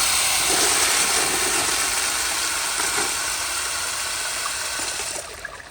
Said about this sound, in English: Now let me do one more normal flush.